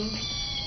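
A pet cat gives a short, close meow, a single brief strained call that stands alone.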